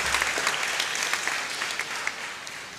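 An audience at a hackathon applauds a diverse team of students, a steady, dense wash of many hands clapping throughout, fairly loud and without speech.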